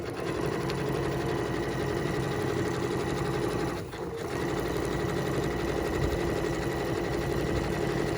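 Steady, fast mechanical whir and chatter of a sewing machine stitching a patch over a hole in jeans, continuous and close with one brief dip midway.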